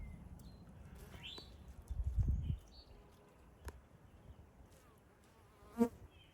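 Honey bees buzz around a hive entrance during spring cleaning as they haul out debris, a faint steady hum with occasional louder passes of a single bee close by.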